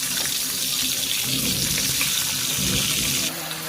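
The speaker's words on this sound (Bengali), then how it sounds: "এরপরে মাছটা ভেজে নিই।" Katla fish frying in hot oil, a steady broad hiss and sizzle that runs unbroken throughout, close and fairly loud, easing slightly near the end.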